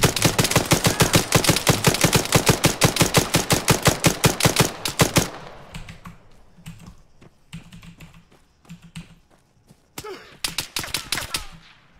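Rapid automatic gunfire in a video game, a loud close burst of evenly spaced shots for about five seconds, then quieter scattered shots and a few more short bursts.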